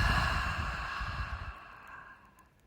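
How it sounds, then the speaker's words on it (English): One long, soft exhale through the mouth during a breathing exercise, close and breathy, fading gradually to quiet. "exhaling fully through the mouth"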